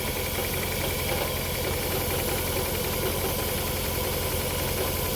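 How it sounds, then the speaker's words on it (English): A Toyota Estima Hybrid 2AZ-FXE engine idles steadily with a rough, uneven throb and faint knocking from a multi-cylinder misfire, shaking continuously and close by with no voices. "Engine is shaking but not rattling."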